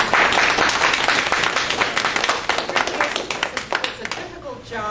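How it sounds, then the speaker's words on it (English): A crowd at a candidate forum breaks into loud, dense applause for the ANC candidates, which gradually thins into scattered claps before a voice starts to speak. "Let's give a round of applause to our ANC candidates."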